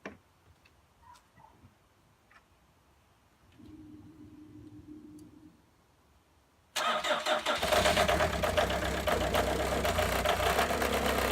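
A VW Jetta TDI engine cranks and starts with a sudden loud roar after a few seconds of faint clicking and a low hum, then holds a steady, loud idle.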